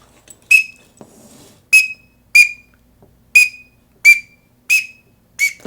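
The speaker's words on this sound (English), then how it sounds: "Here's what it sounds like for a teal." A teal duck call used as a whistle gives seven short, sharp, high whistled peeps at fairly even intervals, each a quick bright chirp with a slight downward slide, loud and close with silence between.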